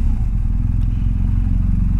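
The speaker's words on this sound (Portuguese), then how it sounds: "a gente tem que parar a moto aqui em algum lugar" Motorcycle engine running steadily on a road along the Ruta Nacional 40 near the Chile–Argentina border, a loud continuous low rumble with no clear slowdown to a stop.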